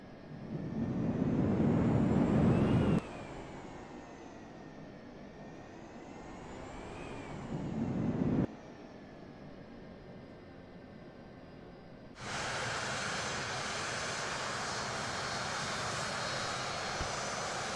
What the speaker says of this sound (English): Reverse thruster even works.